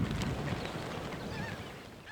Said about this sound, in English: Tens of thousands of migratory water birds winter here.